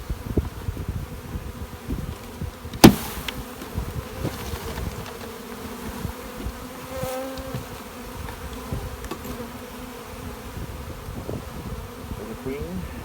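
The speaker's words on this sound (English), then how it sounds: "There's a lot of bees in here" Honey bees swarm around a hive box as overwintered nucs are installed, making a dense, steady buzz close by for the whole stretch, with one sharp knock early on and no talking.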